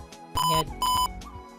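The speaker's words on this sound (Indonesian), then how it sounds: "ini ada bunyi tadi, itu menandakan mikrotiknya sudah ready ya" A MikroTik router virtual machine restarting in VMware gives its ready signal: two short, loud electronic beeps in quick succession, clear and close, with no talking.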